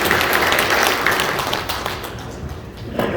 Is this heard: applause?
yes